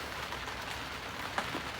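Heavy rain patters steadily onto a sailboat cockpit on the Neuse River, a dense, even hiss of drops with occasional louder splats close by, no voices.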